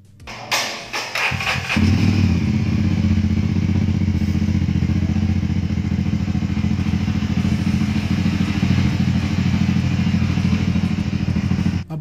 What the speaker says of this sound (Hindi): आप यहाँ पे सुन पा रहे होंगे इस बाइक का एग्जास्ट नोट